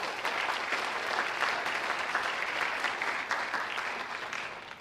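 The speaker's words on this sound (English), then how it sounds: "I want to give a round of applause to the family members again." Steady applause from an audience at a graduation ceremony for technical school graduates, honoring family members, with dense continuous clapping holding an even level throughout and no voices over it.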